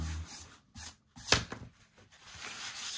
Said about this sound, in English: When you're smoothing, especially with the tissue, smooth from the middle out to your edges.